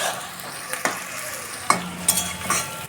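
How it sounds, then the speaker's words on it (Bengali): Onions with a little salt and garlic fry in a pan over medium-high heat, a continuous close sizzle broken by several sharp spatula scrapes and stirs. "সামান্য পরিমাণ নুন দিয়ে দিব, তাহলে পেঁয়াজটা ভালো মজবে। মিনিট খানেক ভালোভাবে ভেজে নেব।"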